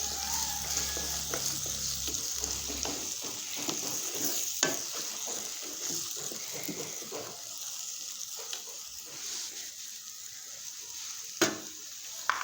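Dry spinach sabzi with pigeon pea pods cooks in a pan, a quiet low sizzle under occasional scraping and clinking of a spoon, with a faint hum that stops early.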